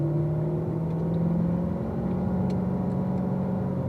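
Car on a race track pulling up into third gear, a steady close engine drone with a sustained even tone, no voices.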